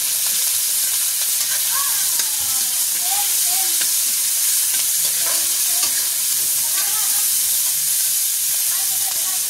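Ground meat sautéing in a pan with onions for a Filipino corn and mushroom sauté, a steady broadband sizzle holding constant throughout with faint scraping stirs and a few soft tonal squeaks.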